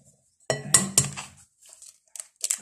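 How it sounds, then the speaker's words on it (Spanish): Three eggs being beaten in a bowl for apple cinnamon muffins, a few close clinks and clatters of a utensil against the dish in a short burst, then quieter scattered taps. "vamos a empezar batiendo los 3 huevos"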